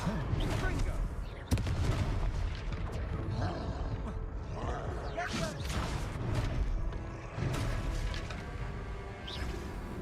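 Confringo blasting spell cast in the Hogwarts Legacy video game, a sharp explosive crack followed by roaring, rumbling bursts and layered game effects, with voices speaking through the scene.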